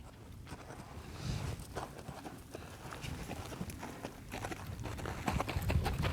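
A horse lopes in an arena under a rider, its hoofbeats a steady rhythmic clip-clop of soft, moderately close footfalls on footing, continuous throughout with no talk.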